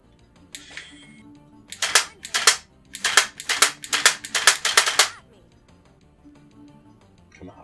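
Mission Paintball plug-n-play toy gun firing a rapid burst of about eight sharp clicky shots in close succession, loud and near, after a brief mechanical whir, with no talk over it.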